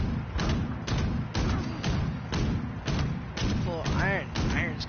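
Heavy rhythmic gunfire from Fallout 76, booming shots repeating roughly every half second, loud and close, with a few higher swooping game effects near the end.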